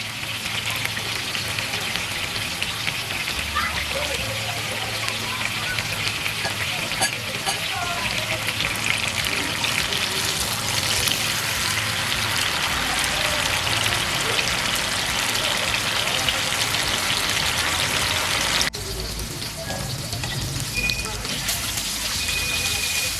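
Chicken pieces for a sandwich fry in a pan over a medium-low flame, giving a long, even, moderately loud sizzle with soft crackles throughout, and a voice talks over it.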